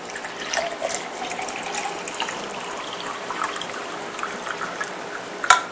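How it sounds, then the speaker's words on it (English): Water poured into a glass, a continuous close trickling and splashing that runs steadily for several seconds, ending with a brief sharp clink near the end. "I'm going to put water in the glass."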